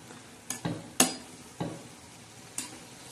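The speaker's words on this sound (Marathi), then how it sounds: "चला मस्त आता कोबी आपण हलवून घेऊया." Cabbage being stirred as it fries in a pan, a few separate scraping and clinking spoon strokes over a faint sizzle, close and moderately loud.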